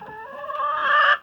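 Chickens cluck close by in a barn, a steady run of overlapping hen calls that swells and grows louder before breaking off abruptly, with no talk over it.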